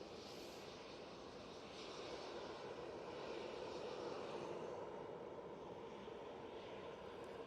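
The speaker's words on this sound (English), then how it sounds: "Aer Lingus coming on." Aer Lingus airliner at Manchester Airport, a distant steady engine roar that swells slightly in the middle and then holds, faint and continuous with no talk.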